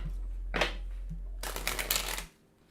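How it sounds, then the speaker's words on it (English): Tarot cards being shuffled by hand: two quick riffling bursts, a short one and then a longer crisp flutter, close and clear before falling quiet. "Two more shuffles here."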